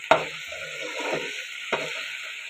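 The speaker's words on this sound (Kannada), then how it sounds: "ಟೊಮ್ಯಾಟೊನ ಈ ರೀತಿ ಫ್ರೈ ಮಾಡಬೇಕು" Tomatoes fry in a pan for North Karnataka style brinjal gojju with a faint, steady sizzle, broken by close scraping strokes of a spatula stirring the pan, with a sharp knock at the start.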